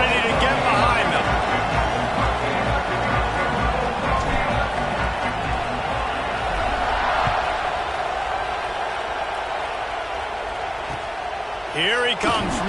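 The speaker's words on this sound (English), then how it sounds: "this crowd now ready to get behind them" Crowd at a college football game between Michigan State and Michigan, a continuous dense roar of the stadium at kickoff, steady and loud throughout while a commentator talks over it.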